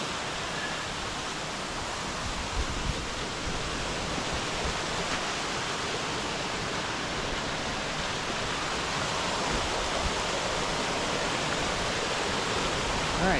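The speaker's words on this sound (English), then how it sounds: "All right, so there's the main waterfall." A waterfall in the Smokies roars steadily and loudly, a dense unbroken rush of falling water that fills the whole stretch with no voices.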